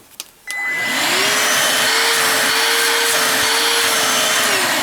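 After a click, a Bosch GAS 18V-1 cordless vacuum cleaner starts up and runs with a steady loud whine and rushing airflow, close by, no voices.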